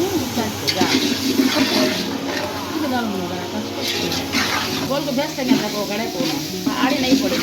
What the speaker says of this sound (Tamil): க்ளீன் பண்ணி வச்சுருக்க சிக்கனை சேர்த்து அதுக்கு தேவையான அளவு உப்பு சேர்த்து அதுவுமே நல்லா வதக்கணும்